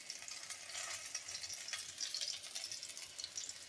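Green chillies and nigella seeds frying in a little oil, heard as a soft, steady, fairly faint sizzle with gentle crackle throughout and no speech.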